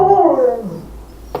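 Dogs being sat over the holidays let out a falling, mournful howl-whimper close by, tapering into quiet with a brief sharp noise at the end.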